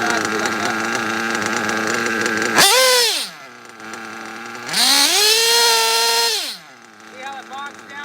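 A small nitro model engine screams at high revs during box tuning, repeatedly rising and then sagging and bogging down at the top of its RPM range, loud and close with a sharp harmonic whine between bursts.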